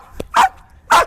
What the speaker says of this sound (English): Let her bark, stay in spot, let her bark.